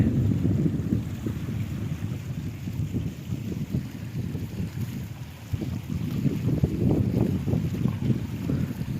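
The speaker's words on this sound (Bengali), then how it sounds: "তুফান হচ্ছে বৃষ্টি হচ্ছে ঠান্ডা বাতাস" Cold wind buffets the microphone loudly during a storm with rain by the water where people are fishing, a continuous rough rumble with gusts rising toward the end.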